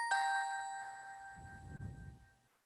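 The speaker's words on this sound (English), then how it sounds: "Number 2 is bells and vibes with strings." A keyboard preset layering bells and vibraphone with strings plays a single bright chime-like chord that rings and decays over a couple of seconds, quiet and alone with a soft low rumble near the end.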